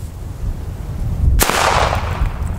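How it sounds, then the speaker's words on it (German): A single sharp blast from an Elgato firecracker, a 3.15-gram banger, goes off outdoors, loud and near, against steady wind noise. "Knalltechnisch würde ich jetzt aber D-Böller sagen"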